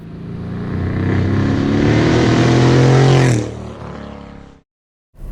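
A Subaru BRZ fitted with a Katech-built LS3 V8 revs hard with a loud, deep engine roar that climbs in pitch, then cuts off abruptly into a brief silence before the engine note returns.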